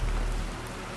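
Steady rain falling in the survival game Planet Crafter, a soft, even patter of drops across the whole moment with a low rumble underneath, no voices.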